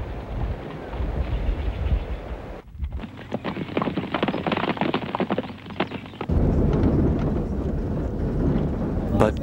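Wild horses move over grassy plains on Tanna island, Vanuatu, their hooves tapping in quick irregular clip-clops amid steady outdoor wind noise.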